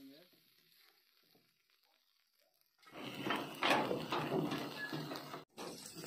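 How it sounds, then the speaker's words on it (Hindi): Masala fries in a pan with mustard seeds and green chilli for a Kewai fish and potato curry, starting quiet and then bursting into a loud, steady close sizzle with a brief break near the end. "इसको मसाला 5 मिनट तक भूनना पड़ता है"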